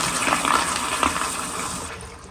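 A 2000 Eljer Signature toilet flushes with its supply pressure being adjusted, a loud, close, continuous rush of water that tails off near the end, with no talking.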